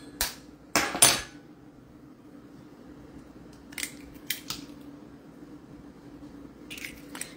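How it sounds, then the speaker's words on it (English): Two eggs cracked into a separate container, heard as a handful of sharp, close cracking taps in small clusters with quiet gaps between them. "To which I'm going to add 2 eggs."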